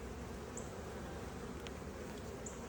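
Honey bees buzz inside an open beehive during an inspection of late splits, a faint, dense, continuous hum with no talking.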